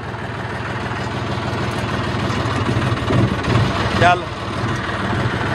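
A paddy harvesting machine's engine idles in a steady, loud, low rumble throughout, with someone talking over it.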